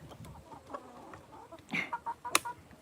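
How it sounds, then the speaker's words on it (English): Hens pecking around in a yard cluck in short, faint bursts, with a louder cluck near the end against quiet background noise. "all them other chickens over there pecking around"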